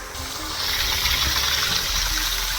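Water gushes steadily from a 3 HP solar-powered farm pump, a loud continuous rushing flow.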